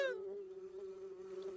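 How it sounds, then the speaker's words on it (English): A swarm of bees in the animated Piglet's Big Movie gives off one steady, close buzzing drone that stays even and alone for the whole stretch. "I can't hear you over all that buzzing."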